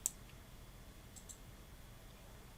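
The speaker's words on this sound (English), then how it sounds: "I click on create" A single faint computer mouse click sounds at the start in a quiet room, followed by a softer click a moment later.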